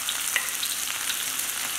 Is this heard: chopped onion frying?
yes